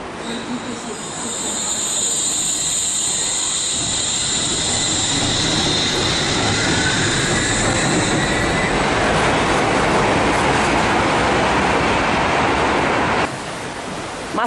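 The Wuppertal Schwebebahn suspended monorail runs above the Wupper River with a loud, steady rushing rumble and a high whine that builds in the first seconds, then holds continuously until a drop near the end.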